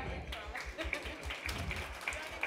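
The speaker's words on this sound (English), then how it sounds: "Clap your hands if you're done" A group at a school community gathering claps their hands, producing a few scattered, soft claps with voices in the background.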